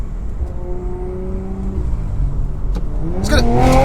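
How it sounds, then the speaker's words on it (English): An Audi RS5 with a 504 bhp engine revs and accelerates through a short tunnel, its rising engine note echoing loud and close before a sharp burst of revs near the end. "I thought I'd just drive through a tunnel"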